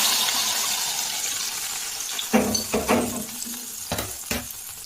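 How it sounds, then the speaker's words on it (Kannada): Ghee-fried raisins and cashews drop into boiling chikoo payasam, a few close splashing plops and sizzles after a soft bubbling simmer, with no voices. "ದ್ರಾಕ್ಷಿ ಗೋಡಂಬಿ ಎಲ್ಲ ಕೆಂಪಗಾಗಿದೆ, ಇದನ್ನ ಪಾಯಸಕ್ಕೆ ಹಾಕೊಳ್ಳೋಣ. ಕುದಿಕೊಂತ ದ್ರಾಕ್ಷಿ ಗೋಡಂಬಿನ ಹಾಕೊಳ್ಳೋಣ."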